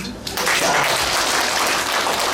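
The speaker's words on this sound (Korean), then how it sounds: "다 같이 한번 박수 한번." A crowd at a book concert erupts in applause that starts abruptly after a brief quiet moment and then holds as a full, sustained wash of clapping.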